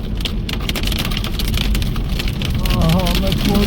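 Dense, rapid pattering of hard pellets drumming on a car body, loud and continuous, with excited voices talking over it.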